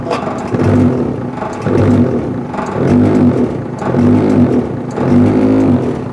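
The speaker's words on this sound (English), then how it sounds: "we have a button on the front of the machine which is called a filter shaker, and you will see the vibration going on" A GTS1200 ride-on sweeper's filter shaker runs with a loud, steady mechanical vibration and hum that swells in regular pulses about once every second, close up with no talking.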